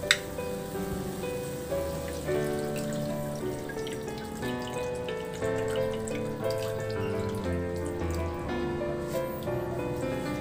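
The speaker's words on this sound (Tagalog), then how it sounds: "maglagay na ako ng pineapple juice" Pineapple juice poured into a pot of pork pata with soy sauce, bay leaves and whole peppercorns, a steady faint splashing stream running throughout with no voices.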